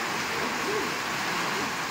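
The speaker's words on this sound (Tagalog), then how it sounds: "Grabe po, napakalakas ng ulan." Heavy typhoon rain pouring down at a lighthouse, a loud, steady, dense hiss that fills the whole scene without a break, with only faint hints of voices beneath the downpour.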